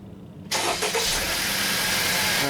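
A Honda vehicle's engine cranks and catches to life abruptly after a quiet moment, then settles into a steady, loud idle close by with no talking.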